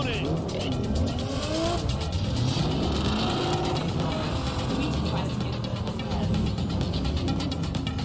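Race car engines revving and roaring loudly at a start line, with tyre squeal mixed into a dense, continuous engine din while people talk over it.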